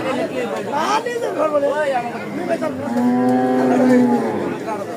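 Cattle at the Aricha cattle market in Manikganj give a long, loud, close moo over a background of people chattering nearby.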